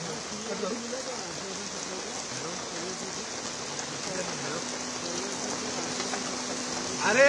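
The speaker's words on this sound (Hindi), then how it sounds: "इस बीच मुंबई में झमाझम बारिश जारी है।" Steady heavy rain in Mumbai, a dense, continuous hiss of falling water that stays even throughout and swells slightly louder at the very end.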